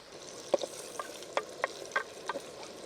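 Onion fries in oil in a pan for a goat-head curry, giving a soft, low sizzle broken by a few brief crackles and light pops, close and fairly quiet.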